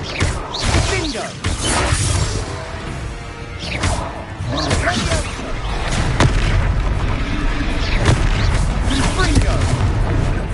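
Confringo fire spell blasts in Hogwarts Legacy, loud booming explosions and crashing impacts repeating over a rumbling battle din, with voices shouting in between.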